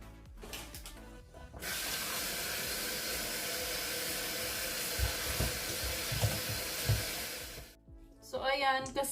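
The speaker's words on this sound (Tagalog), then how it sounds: "Hugasan muna natin siya para malinis." Tap water runs steadily into a sink for about six seconds as salad leaves are rinsed for a watermelon salad, a fairly loud, even hiss with a few soft knocks, then it stops.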